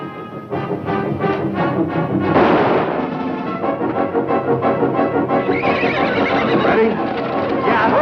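A horse hitched to a wagon neighs and whinnies loudly amid clattering hooves, with gunfire and a busy, dense soundscape in a Western shootout scene.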